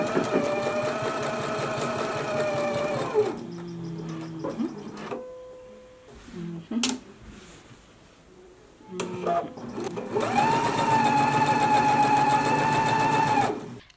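A sewing machine stitches an unlined jacket in two long steady runs of fast rhythmic whirring, with a quieter gap of small handling clicks and adjustments between them.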